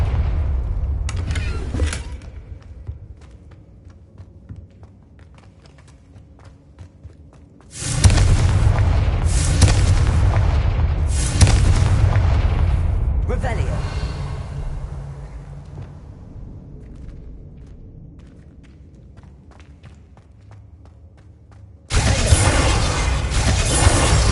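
Video-game Confringo spell explosions erupt as deep, heavy booms with long rumbling decays, one fading at the start, a big blast in the middle and another at the end.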